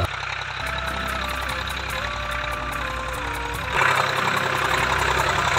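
A tractor engine idles with a steady low chugging throb on a farm field being prepared for paddy sowing, continuous and fairly close, growing slightly louder near the end.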